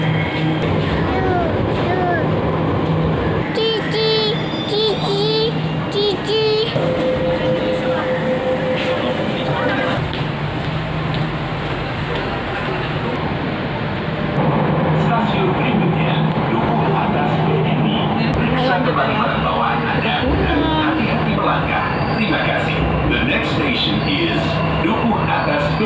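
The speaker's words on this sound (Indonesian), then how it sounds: "Ini kereta MRT jurusan Lebak Bulus, MRT ini berangkat ke sana." Jakarta MRT train bound for Lebak Bulus, heard from an underground station at Bundaran HI, with a steady rumble, several short electronic tones and a long hum as it departs, while people talk throughout.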